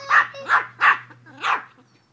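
A dog barks four times in quick, loud, close yips with short gaps, then falls quiet.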